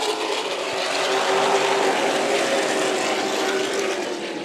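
Stock cars racing at Stockton 99 in a CARS Tour West event, a loud, continuous engine roar of several cars passing close, steady throughout with no voices.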